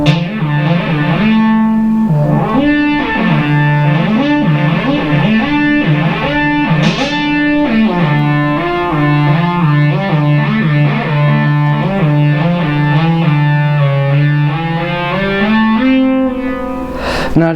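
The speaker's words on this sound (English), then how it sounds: "if I don't want the effects section, I can just turn it off," A Behringer synthesizer plays a sequence with its effects section switched off, giving a steady, loud run of stepping melodic notes that continues without pause and with no voices.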